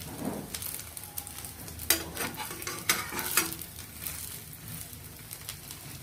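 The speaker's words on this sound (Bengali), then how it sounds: "এটা একটু হালকা ভাজা ভাজা হলে আমি নামিয়ে ফেলবো" Patishapta pitha fries lightly in a little brushed oil on a pan, giving a soft, steady sizzle with a few clinks and scrapes of a spatula in the middle.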